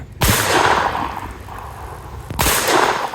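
A Manurhin Walther PP .22 LR pistol fires through a suppressor: two sharp, close cracks about two seconds apart, each with a short ringing tail, and no talking.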